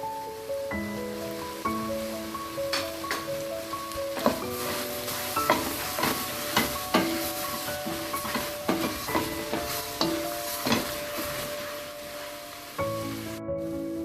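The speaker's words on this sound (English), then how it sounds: "Give it a nice stir." Mixed vegetables and spinach leaves cooking for spaghetti in a pan, a steady sizzle broken by repeated clanking strokes of a utensil stirring against the pan, fairly close and rhythmic, no voices.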